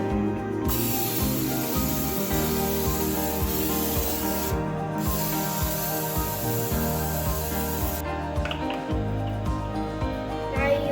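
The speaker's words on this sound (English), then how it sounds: "Don't forget to spray all of it." Cooking spray gives a steady hissing spray that runs almost continuously, with short breaks, close up and fairly loud.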